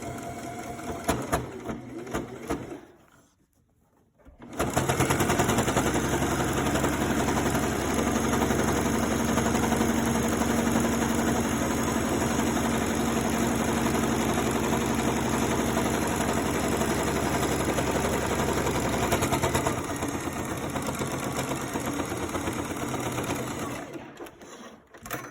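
A sewing machine topstitches close to the edge of a shirt collar stand, running in a long, steady, even whirr for about fifteen seconds after a brief pause, then stopping.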